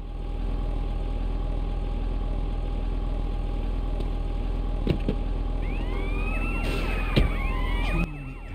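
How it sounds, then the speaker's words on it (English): In the video game Grand Theft Auto San Andreas, a steady engine idles low and close while an ambulance siren enters late, its wailing tones sweeping up and down for a couple of seconds near the end. "An ambulance just picked him up."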